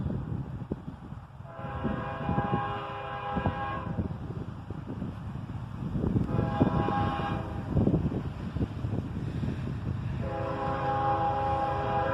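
A southbound freight train rumbles past, its horn sounding in several long, loud blasts over a steady, close roar of rolling cars.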